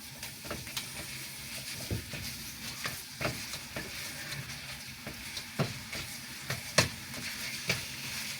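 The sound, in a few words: meat sizzling while frying in a pan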